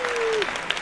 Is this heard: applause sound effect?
yes